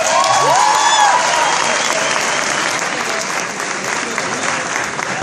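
Loud, enthusiastic applause at the MBN Ecuador 2014 music awards ceremony, with cheering voices and a shout rising over the dense clapping near the start before it settles into a steady roar.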